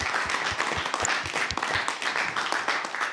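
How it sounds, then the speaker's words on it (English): Audience applause for a panel at a David Oluwale legacy event, a steady, moderately loud patter of many hands clapping throughout, with no talk over it. "we first have just a round of applause for sorry. Arthur, Joe, and Carol for joining us here"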